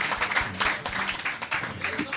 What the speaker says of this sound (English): Another round of applause for Malia